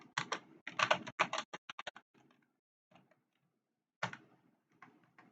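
Rapid typing on a computer keyboard, close and crisp, with quick clusters of keystrokes at the start, sparse taps after, then a final short burst.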